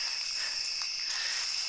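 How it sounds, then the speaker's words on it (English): Dense, continuous cricket chirping fills a wooded forest preserve, a steady high trill running throughout with no other sounds and no talking. "it's so woodsy and you hear all the crickets"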